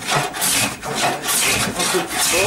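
RALI hand plane shaving fine curls from wood, a series of rough rasping strokes in a loose rhythm, close and fairly loud, with a brief spoken remark in French over one stroke.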